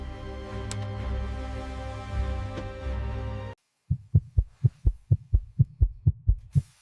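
An electronic heartbeat sound effect pulses in a steady, evenly spaced run of about a dozen soft thumps as a fighter jet powers up on ground power. A dense, loud hum comes before it and cuts to silence.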